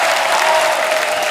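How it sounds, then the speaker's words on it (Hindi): A studio audience at a comedy talk-show spoof breaks into loud, dense applause, a continuous close wash of clapping from start to finish. "जोरदार तालियां."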